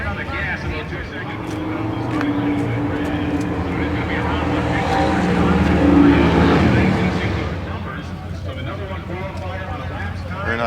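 Ford Fairlane and Monte Carlo drag cars roaring off the start line at a car show in Pomona, a broad engine rumble swelling to a peak midway and then easing, with people talking over it.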